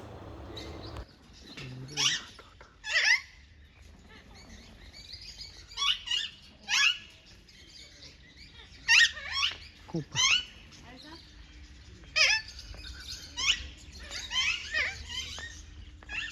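Birds, including parrot-like birds, chirp and tweet in an aviary at a zoo in short bright bursts at irregular intervals, some calls clustered together, over a quiet background with a faint low murmur.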